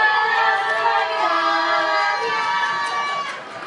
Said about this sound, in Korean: 가장 핫한 걸그룹 스텝 투미데 시스맨 무대입니다 박수 부탁드리겠습니다